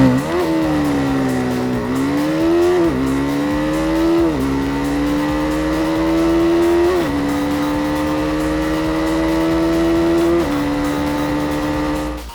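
A BMW G 310 R motorcycle engine is revved hard toward its red line, rising in repeated loud pulls with brief drops between gear changes, close and continuous with nobody speaking.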